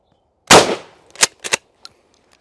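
A single loud, close shotgun blast firing a Remington target load at an outdoor range, followed by a few sharper echoing cracks and clicks as the sound dies away, with no talking.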